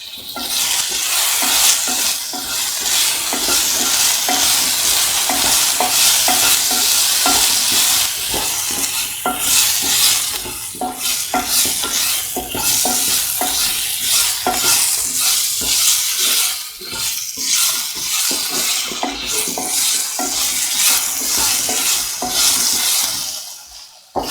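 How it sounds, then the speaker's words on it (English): Eggplant and potato sautéing in a pan with onion powder, a steady loud sizzle with continuous scraping and stirring strokes throughout, no voices. "Saute and mix this"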